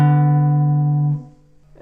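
A guitar double stop sounding a sixth, two notes struck together and left to ring as a steady sustained tone for about a second before being cut off, with a small string noise just after; close and alone.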